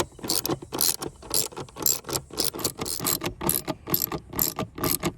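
Rapid clicking of a hand socket ratchet working loose the air filter housing screws on a Jeep Gladiator, in repeated quick bursts of ratcheting strokes, close and clear with no talk.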